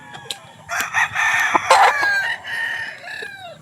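A Gilmore gamecock at a game farm crows loudly and close by, several bright, strained calls running across a few seconds with brief gaps between them.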